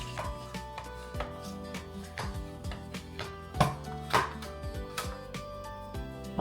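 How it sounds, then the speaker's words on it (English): A meat slicer cuts through meat in a home kitchen, making a series of soft, uneven slicing and thudding strokes at close range, with faint background music beneath. "I just sliced it right up."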